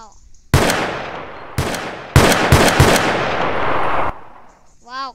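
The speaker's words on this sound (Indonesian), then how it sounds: "Kayak Honey Badger tapi ya ini sniper." Sniper rifle shots in a Roblox war game ring out as loud, booming cracks, several in quick succession with long decaying tails, followed by a fading rumble and a brief electronic sound at the end.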